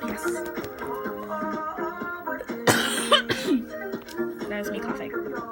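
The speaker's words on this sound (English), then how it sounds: "That was me coughing." One short cough bursts out midway, close and fairly loud, amid ongoing chatter and light background sounds at home.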